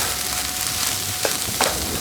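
Vegetables sprinkled with white pepper fry in a pan for an Indonesian dish, a steady close sizzle and hiss with a couple of soft clinks or stirring knocks near the end.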